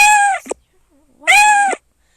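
A cat meows twice, loud and close, each meow drawn out and separated by a short pause.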